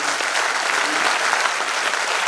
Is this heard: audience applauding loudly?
yes